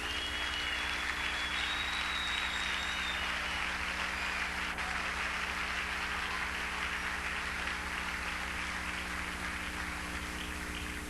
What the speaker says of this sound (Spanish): Y le vamos a dar un aplauso al hermano.